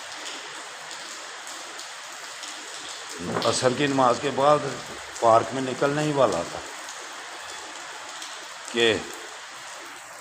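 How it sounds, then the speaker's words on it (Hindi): Heavy rain pours steadily outside a large mosque, heard from indoors as a continuous broadband hiss throughout, with someone speaking over it in the middle and again briefly near the end. "बारिश तेज शुरू हो गई।"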